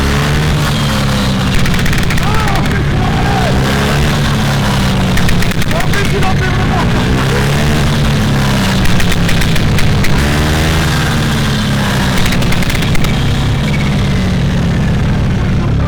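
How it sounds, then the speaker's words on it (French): A loud car engine roars and idles close by, punctuated by repeated sharp pops and bangs from the exhaust as the rev limiter cuts ignition, continuous throughout. "il y a une détonation par rapport à une rupture d'allumage"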